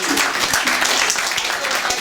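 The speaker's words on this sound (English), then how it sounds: "Please don't clap." An indoor audience at a talk on artificial intelligence claps in a dense, steady burst of applause, close and loud for about two seconds.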